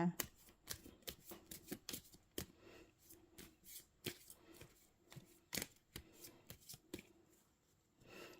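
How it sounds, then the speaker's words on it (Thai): Tarot cards are cut and shuffled by hand in a daily reading, a rapid series of crisp riffling snaps and slaps at irregular intervals, close and clear, with a voice speaking at times. "ขอเป็นตัวแทนตัดไพ่ตัดไพ่ให้คนเกิดวันอาทิตย์นะคะ"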